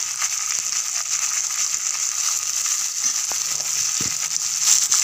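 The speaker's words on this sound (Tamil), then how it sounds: "அது நல்லா கொஞ்சம் வதக்கட்டும், ப்ரௌன் ஆகட்டும்." Dal, green chillies and onion sautéing in oil for rice upma give a steady, fairly loud sizzle that carries through, with a few faint scrapes and clicks from the pan and no talking.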